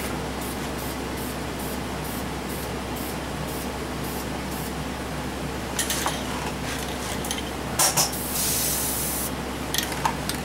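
Aerosol spray paint hissing in short repeated bursts onto the head bolts of a Chevy 350 engine, steady bursts first then a longer spray, over a constant background hum.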